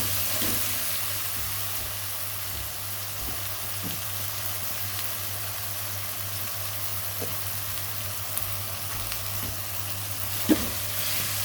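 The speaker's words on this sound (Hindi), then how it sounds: "साबुत गरम मसाले को हम प्याज टमाटर अदरक लहसुन के साथ ही हल्का सा लाइट सा भून लेंगे" Whole garam masala fries with onion, tomato, ginger and garlic in a pan, a steady close sizzle that goes on unbroken, with a low hum beneath and a few faint clinks.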